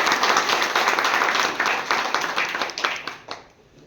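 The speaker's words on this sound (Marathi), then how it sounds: "एकदा जोरदार टाळ्या वाजवा." Enthusiastic clapping from an audience at an office inauguration ceremony, a dense burst of many hands that holds steady before thinning out and fading toward the end.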